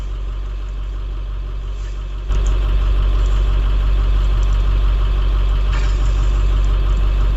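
A 2003 IC CE200 school bus with a 7.3L International T444E diesel idles. It makes a steady, heavy low rumble that steps up in loudness after about two seconds and then holds constant, with no talking.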